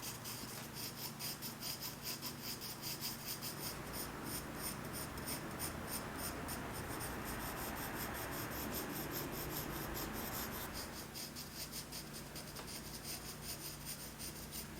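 A pencil shades a glass bottle and flowers on paper for a still-life drawing, a soft, continuous close-up scratching and rubbing of graphite strokes that runs steadily throughout.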